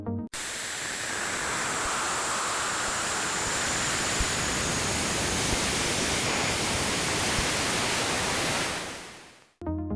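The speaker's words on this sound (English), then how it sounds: "The static you hear is a direct recording from Cassini's instruments as it crossed the ring plane" A steady wash of loud hissing static recorded by the Cassini space probe's instruments as it crossed Saturn's ring plane fills the whole stretch, cutting in and out abruptly at the edges.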